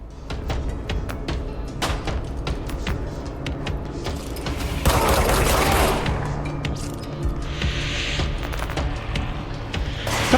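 Rapid bursts of synthetic gunfire from the video game Control crackle repeatedly, with sharp shots and a louder blast midway, dense and close, no talking.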